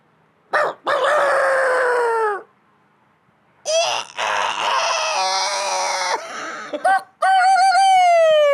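A man imitates a rooster crowing in a contest among friends, giving three loud vocal crows separated by short pauses, the last one rising and sustained.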